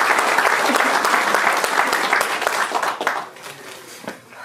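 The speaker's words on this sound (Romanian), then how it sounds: "Să aplaudăm pe Andreea pentru o pauză" Audience applause at a judo retirement gala, a dense wash of many hands clapping loudly that thins and fades toward the end.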